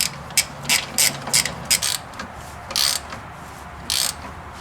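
A ratchet with a 17 mm socket snugs down a front strut bolt on a 2010–2013 Mazda 3, giving short bursts of rapid clicking in an uneven rhythm, close and clear over a quiet garage background.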